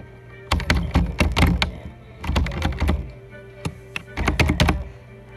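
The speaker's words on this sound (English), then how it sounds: "Sorry to hear the annoying keyboard stuff" Computer keyboard typing in close, clustered bursts of clacking keystrokes separated by short pauses, no talking.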